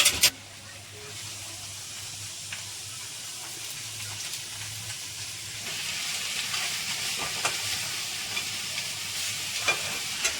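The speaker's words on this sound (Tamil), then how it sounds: "வெங்காயம் நல்லா வதங்கிருச்சு. இப்போ முட்டைக்கோஸ் போட்டுக்கலாம்." Onion and cabbage sautéing in a home kitchen pan, a steady soft sizzle with occasional scrapes and clinks of a stirring spoon, brightening slightly midway.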